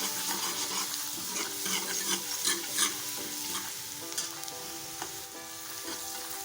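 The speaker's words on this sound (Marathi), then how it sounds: "कांदा आपण परतवून घेत आहोत इथे." Onion sautéing with ginger-garlic paste in a pan for dhaba-style shev bhaji: a steady close sizzle with stirring scrapes throughout, loud and without talk.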